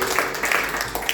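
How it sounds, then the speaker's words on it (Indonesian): A church congregation claps together during a Sunday worship service, a brief steady patter of hands with a faint hum of voices beneath. "Tepuk tangan bagi Tuhan."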